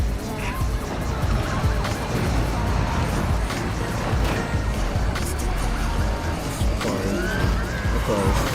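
Car driving hard in an online video game, a continuous loud engine roar with bursts of tire skidding and scraping, plus other game effects layered throughout.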